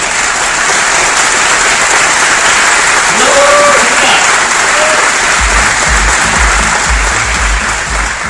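A conference audience of developers applauds steadily and loudly throughout, a dense wash of many hands clapping with no pause.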